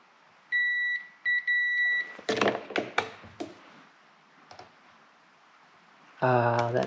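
An ohm meter tests the switch on a Stihl MS 391 chainsaw: a steady two-tone continuity beep sounds, cuts out briefly and resumes, then knocks and clicks from the probes follow, and a brief buzzing tone comes near the end.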